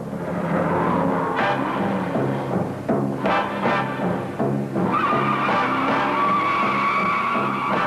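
1968 Jaguar XKE accelerating hard from a standstill, the engine roaring loudly while the tires spin and squeal, running steadily and close through the whole stretch.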